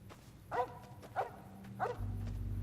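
A dog in the video game Fallout New Vegas gives three evenly spaced barks at a moderate distance, followed by a low steady hum.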